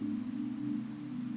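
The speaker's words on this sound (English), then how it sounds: "This is the sound of the anti-cloud." An ambient synth pad patch named anti-cloud, played through a Chord Legacy for a gospel music intro, holds a soft, steady low drone that hums evenly without breaks.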